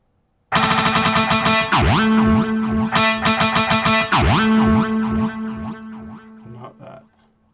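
Synthesizer arpeggio drone for tension music, a loud sustained harmonic pad with rapidly repeating pulsing notes and swooping pitch sweeps, fading out near the end.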